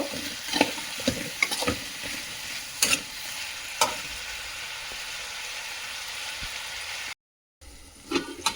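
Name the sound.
eggplant (brinjal) cooking in pan for vangi bath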